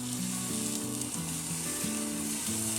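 A pork loin sizzles on a Gateway drum smoker as it is flipped, a steady close hiss of frying under a low hum with no talk.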